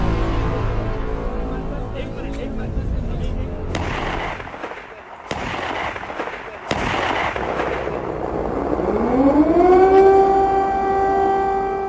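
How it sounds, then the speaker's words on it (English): A wailing air raid siren in Kyiv, Ukraine, during wartime rises and holds a steady tone over a busy outdoor background, with a few sharp bangs and distant talk earlier. "Air raid sirens go off in Ukraine's capital Kiev"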